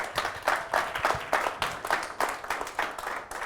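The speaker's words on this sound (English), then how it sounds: "So everybody give them a round of applause" A conference audience at the International Football Betting Conference gives a round of applause, a close, moderately loud run of clapping with a rough pulsing rhythm that holds steady throughout.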